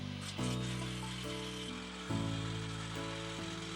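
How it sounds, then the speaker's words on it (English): An electric jackhammer pounds steadily at an excavation site, a loud continuous mechanical drone with shifting harmonic tones and gritty hammering texture, no voices over it. "As you hear the electric jackhammer"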